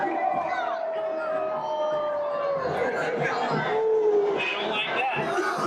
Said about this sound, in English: Marana crowd showing their displeasure on that call.